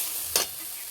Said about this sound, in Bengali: মশলা কষানো হয়ে গেছে, বেটে রাখা শাক দিয়ে দেবো।